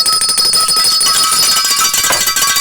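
Many hand bells ring at once in a TV studio, a loud continuous shimmering jangle with no talk over it.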